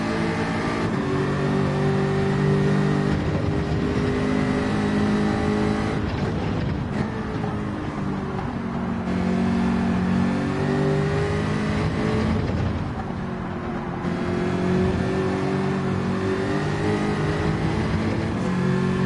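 A V8 Gr.4 race car drives the Maggiore circuit in a racing video game, its engine droning loudly and steadily, revving up and down through gear changes and corners as other AI cars run nearby, with no talking.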